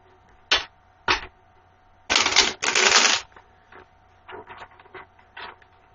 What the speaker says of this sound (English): I'm going to shuffle the cards 3 or 4 times